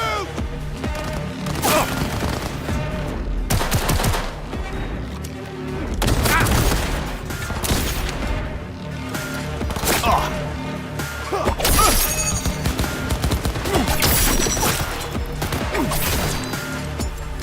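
Gunfire in the Cyberpunk 2077 video game, with dense bursts of shots and crashing impacts running loud throughout, over a busy game soundtrack with voices shouting.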